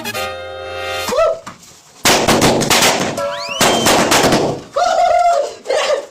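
Firecrackers exploding in rapid succession, loud and close, in dense crackling clusters with short gaps between them, after a brief voice at the start.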